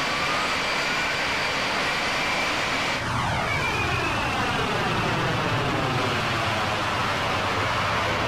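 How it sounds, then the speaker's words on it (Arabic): An aircraft passes overhead with a loud, continuous engine roar, and its pitch swoops downward as it goes by. "اوه طائرة."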